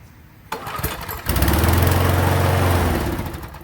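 Briggs & Stratton engine on a Toro lawn mower being pull-started, with a brief cranking sputter, then a loud running roar that holds a couple of seconds and begins to fade toward a stall near the end.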